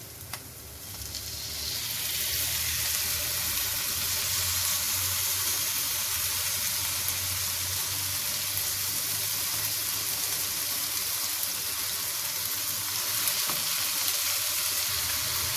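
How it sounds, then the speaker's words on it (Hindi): Marinated chicken hits a pan of softened frying onions, setting off a loud, steady hiss and sizzle that swells within the first two seconds and holds evenly. "और साथ में अब मैं इसमें मैरिनेटेड चिकन डालने लगी हूँ।"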